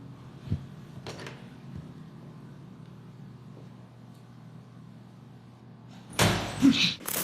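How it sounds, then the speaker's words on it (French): A quiet bathroom hums faintly with a couple of small knocks, then a door slams loudly near the end, its bang echoing briefly through the room. "Le claquement de la porte résonne dans toute la salle de bain."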